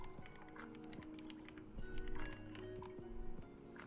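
A synthetic keyboard typing effect clatters in quick, irregular clicks, moderately close, under soft background noise and faint hum.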